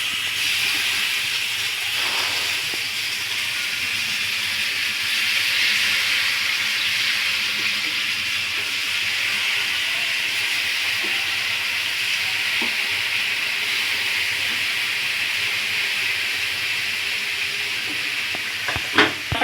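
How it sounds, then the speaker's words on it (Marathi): Potato slices coated in black pepper, chili powder and coriander-cumin powder fry in a pan, giving a steady, even sizzle with no pauses or talk. A few faint clicks come near the end. "आता मी हे फक्त थोडं फ्राय करून घेईन."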